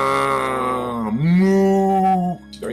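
Children's voices imitate a cow, sustaining one loud, long, wavering moo that rises and then falls, close and clear, ending abruptly.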